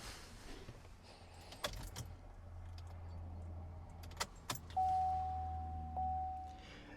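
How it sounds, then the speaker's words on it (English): A car's ignition is switched off and back on: keys jingle, a few sharp clicks land close by, and then a steady electronic warning tone sounds for about two seconds against a quiet low hum. "it's asking us to shut our ignition off and turn it back on after"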